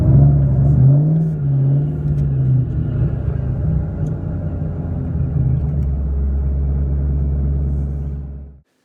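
A Ford Mustang Mach 1 engine rumbles steadily up close with a deep, throaty idle, swells briefly in pitch near the start, then settles into a constant low drone before cutting off abruptly.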